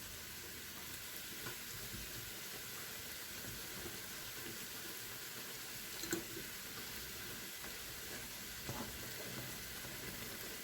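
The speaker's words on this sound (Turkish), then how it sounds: "Her tarafını iyice kızartmamız lazım." Hurma dessert dough frying in hot oil until crispy, a steady soft sizzle and bubbling with faint pops and occasional stirring clinks, close but quiet, with no talk.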